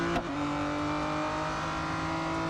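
Aston Martin Vulcan AMR Pro race car in Real Racing 3 holding a steady, sustained engine drone with a short tonal sweep at the start, under no talk.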